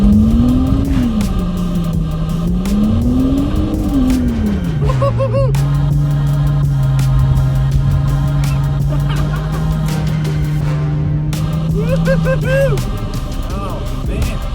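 A car being drifted with its engine revving loudly, pitch sweeping up and down before holding a long steady high note, then dropping away; voices talk over it.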